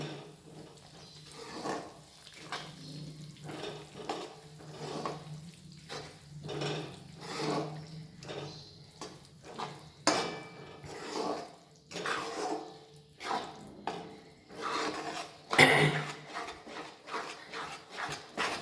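Peanuts and jaggery for sukhdi are stirred in a pan over a low flame, giving soft rhythmic scraping and sticky rubbing strokes at a steady pace, close and quiet, with one sharper knock near the end.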